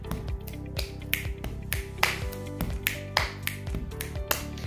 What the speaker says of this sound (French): tu pourras ajouter ensuite un claquement de doigts comme ceci